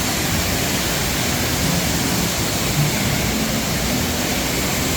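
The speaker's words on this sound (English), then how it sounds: "Nice big waterfall out here." Big outdoor waterfall outside a Rainforest Cafe restaurant in Galveston, with light rain falling, producing a steady, loud, broadband rushing roar that holds constant throughout with no voices.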